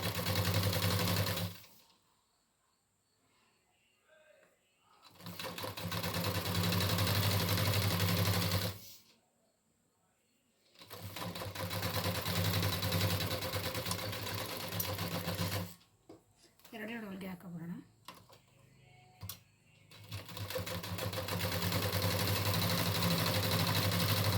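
A sewing machine stitching a pocket onto ladies' patiala pants runs in long, loud, steady bursts separated by pauses, one pause filled with faint handling noises.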